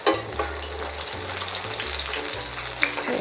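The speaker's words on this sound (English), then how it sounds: "lower it down to medium to low heat, and then we're going to slowly cook the fish" Fish slowly frying over medium-low heat in a small wok, a steady close crackling sizzle throughout with a low hum underneath and no voices.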